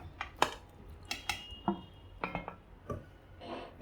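Sliced tomatoes drop into a pressure cooker with a series of short metallic clinks and knocks, scattered and close, with no talking.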